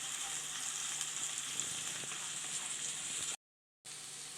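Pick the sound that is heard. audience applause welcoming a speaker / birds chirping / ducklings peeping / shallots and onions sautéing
shallots and onions sautéing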